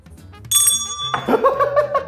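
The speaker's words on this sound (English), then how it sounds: "when we finish writing, we ring the bell" A single bright ding from a desk bell rung during a kids' math quiz, sharp and close, its tone ringing on briefly as another pitched tone follows.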